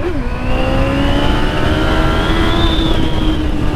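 A Yamaha XJ6 motorcycle accelerates hard at close range, its engine note climbing steadily through a long, loud rev with a rising whine and no talk.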